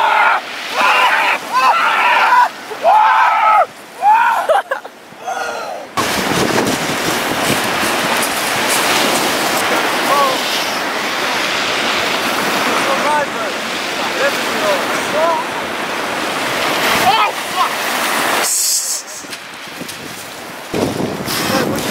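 Sea waves at Brighton beach during a swim, a loud, continuous broadband wash of surf and water with gusty wind noise on the microphone, preceded by a few seconds of voices talking.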